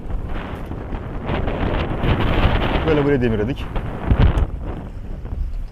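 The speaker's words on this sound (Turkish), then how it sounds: "Şu an sabah yine bir fırtına var. Rüzgar 25 civarında esiyor." Strong wind of about 25 knots buffets the microphone in a steady roar throughout, on a sailing boat at anchor in a storm near shore, with someone talking over it.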